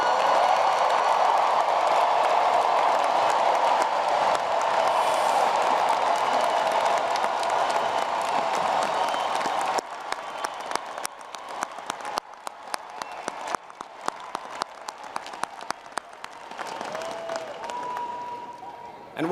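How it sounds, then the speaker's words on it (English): A large audience at a Howard University commencement applauds the graduating class of 2023, a broad sustained roar of clapping that later thins to sparser, more distinct claps with a few voices mixed in. "please stand so that we can give you the appropriate applause"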